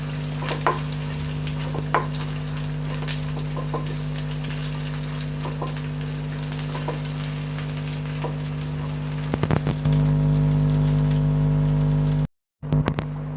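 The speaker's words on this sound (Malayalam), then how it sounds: "എന്നാലും ഒന്ന് കളറൊന്ന് മാറി വരുന്നവരെ ഇളക്കി കൊടുക്കാം." Vegetables for a Kerala-style stew fry in a pan with a soft, steady crackle. Occasional stirring scrapes and a constant low hum run beneath it, followed by a brief cut near the end.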